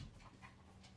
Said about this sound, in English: That's the dog. She has found a toy.